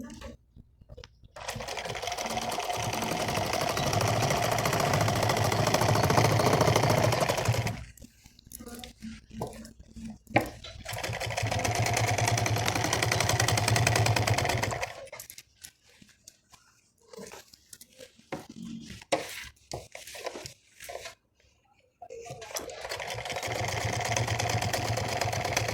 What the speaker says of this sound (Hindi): तो इसे हम यहाँ पर खींच करके सिलाई लगाएंगे इस तरह से